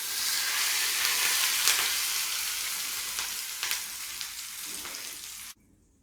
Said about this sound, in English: The tadka will now go to our curry mix.